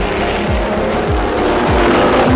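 Race cars at the start of the French Grand Prix roar loudly as several machines sweep past in quick succession, each engine note rising and falling over a constant racing din.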